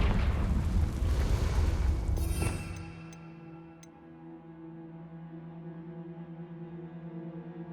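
A Confringo fire spell explodes in the Hogwarts Legacy game, a loud rumbling boom that fades over a few seconds into a low tonal hum with faint ticks.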